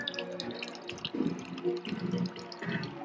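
Water runs and trickles steadily on an off-road track, with small splashes and drips under a low background hum.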